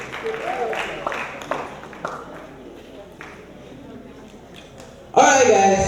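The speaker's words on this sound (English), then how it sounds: "Please keep clapping till he sits down." Conference audience applauding after a session, a dense broadband patter of many hands that swells loudly near the end, with faint talk and stray impacts underneath.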